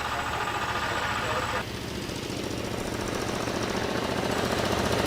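A vintage GN sports car pulls away from the start line at a hill climb, its engine a loud, steady, rough pulsing drone throughout, with faint commentary beneath.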